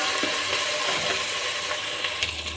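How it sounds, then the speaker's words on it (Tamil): Ginger garlic paste sautés in a pan as chicken biryani is prepared, giving a steady close sizzle and frying hiss with light stirring scrapes and no talk. "இஞ்சி பூண்டு அந்த பச்சை ஸ்மெல் போகிற அளவுக்கு நல்லா வதக்கிடலாங்க"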